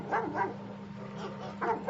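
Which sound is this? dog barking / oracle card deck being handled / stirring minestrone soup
dog barking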